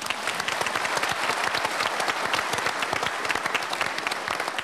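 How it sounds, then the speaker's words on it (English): A theatre audience at the Geelong Performing Arts Centre gives a dense, lively round of applause, close and continuous with sharp individual claps throughout. "please give yourselves a quick round of applause."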